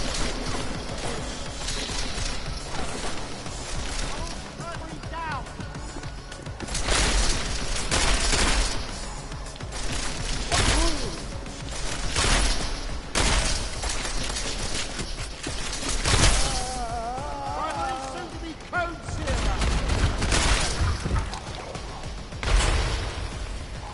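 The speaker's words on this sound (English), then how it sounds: "Tactical shotgun." Tactical shotgun blasts boom repeatedly in a PS4 video game, the loud shots landing in irregular bursts amid clattering mechanisms and crashes over a busy game soundscape.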